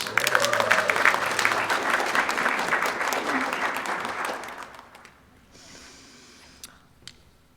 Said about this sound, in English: And the crowd clapped.